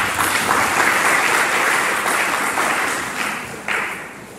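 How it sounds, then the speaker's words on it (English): An audience at a university event breaks into a sustained round of applause for academics, a dense wash of clapping that slowly thins and fades toward the end. "all the academics in our midst also deserve a round of applause."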